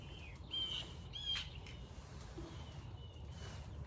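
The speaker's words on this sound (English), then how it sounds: "Oh, these birds are chirping in the background. Crows." Crows give a few faint, harsh squawking calls in the background, two brief louder bursts early on, over a steady low outdoor rumble.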